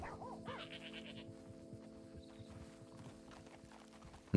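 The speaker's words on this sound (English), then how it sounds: "An alpine goat." Alpine goats bleat in Red Dead Redemption 2 against a steady backdrop of horse hooves clip-clopping, the calls moderately close and repeating over several seconds with no talk.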